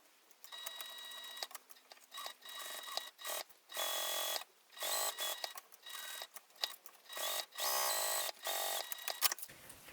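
A sewing machine stitches a satchel in repeated bursts of fast, steady whirring separated by brief pauses, close and clear with no talking.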